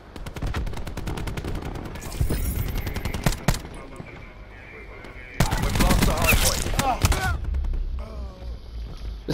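Rapid automatic gunfire in Black Ops 4 multiplayer, with loud bursts of machine-gun shots separated by pauses, heard over game sound effects and radio-style voice callouts.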